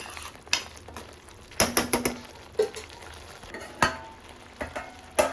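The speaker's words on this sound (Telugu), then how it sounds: "కొత్తిమీర వేసేసుకొని ఒక్కసారి మిక్స్ చేసుకుందాం" A spoon stirs paneer curry with fresh coriander in a cooking pan, producing a series of sharp scraping clinks and knocks against the metal over a faint, steady background hiss.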